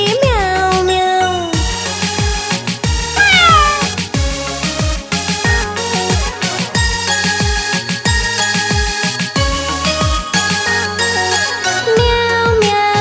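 Cat-like meows, mostly from an imitating voice, ring out over a bouncy, upbeat tune with a steady beat.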